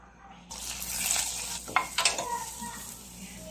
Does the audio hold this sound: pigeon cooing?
no